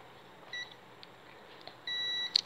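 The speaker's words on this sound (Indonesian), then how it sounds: "buzzer ya di sini ya, supaya terlihat konslet apa tidak" A multimeter's continuity buzzer beeps during a test on a lightning-damaged CRT television, giving short, thin electronic tones, one brief and one longer sustained, over a soft steady background hiss.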